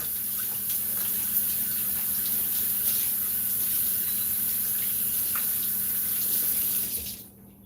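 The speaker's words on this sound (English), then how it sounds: "I put some soap in my hand, and I wash my hands." Running tap water pouring steadily into a kitchen sink while hands are washed with soap, a continuous close rushing splash that cuts off abruptly near the end.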